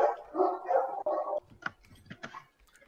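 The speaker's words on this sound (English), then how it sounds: "So many dogs are barking right now." Several dogs bark and yelp together in a fairly close, busy burst. The noise then trails off into a few scattered quieter yips and rustles.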